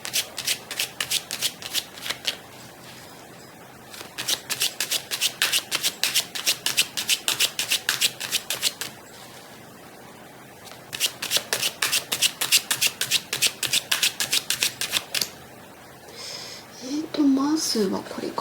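Tarot cards shuffled for a reading, with rapid riffling bursts repeating in long runs and a brief pause between them, close and clear, ending in a short rustle.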